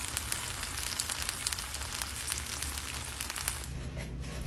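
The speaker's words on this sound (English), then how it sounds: "Now that is the sound of a baked sweet potato." Baked sweet potatoes sizzle and crackle steadily, with a dense, continuous hiss of fine pops close by that holds throughout and eases slightly toward the end.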